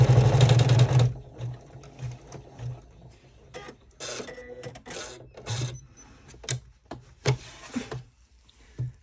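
An embroidery machine stitches a sling backpack in the hoop, sounding as a fast buzzing run at first, then intermittent short mechanical bursts and clicks with pauses between them, close by.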